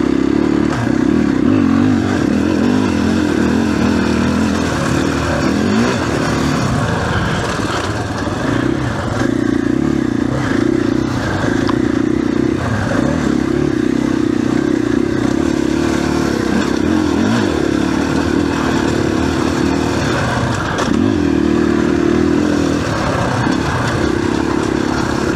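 A 2021 KTM 500 EXC-F dirt bike rides a trail, its loud single-cylinder engine droning steadily and surging in repeated throttle bursts, with rattles and scrapes from the terrain throughout.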